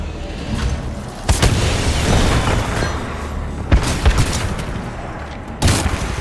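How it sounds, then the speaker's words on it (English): An exploding spider blowing up in Titanfall 2, heard as a few sharp, loud booms and pops spread across several seconds over continuous game noise, with a voice talking at times. "I just uppercutted an exploding spider."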